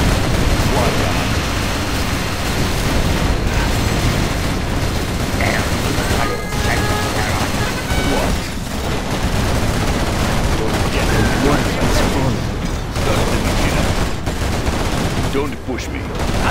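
Rapid quad cannon fire in the strategy game C&C Generals Rise of the Reds, with dense bursts of gunfire and crashing explosions running continuously under game voice lines.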